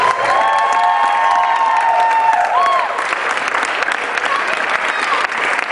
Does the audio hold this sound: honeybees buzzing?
no